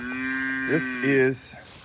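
Grazing cattle moo nearby, a long loud low call with another cow's bellow overlapping it, then quiet field ambience.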